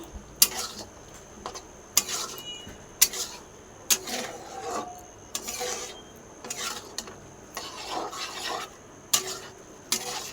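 Chana dal being stirred into fried spice masala in a pan: a spatula scrapes and clanks against the metal in a repeating rhythm, with a faint sizzle underneath.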